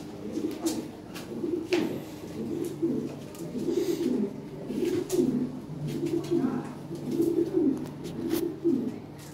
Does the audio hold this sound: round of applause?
no